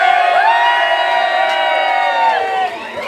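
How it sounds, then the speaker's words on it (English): A festival audience at an outdoor bardic picnic cheers and whoops loudly together for a proposed name, a sustained dense roar of many voices that holds steady, then eases slightly near the end. "I want you to give a cheer for the name Racehorse."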